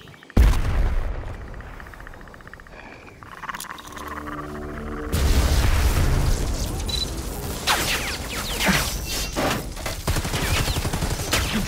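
A grenade explodes in a video game battle with a sudden deep boom, followed by a long rumbling stretch and more heavy blasts and crackling gunfire that keep the scene loud throughout.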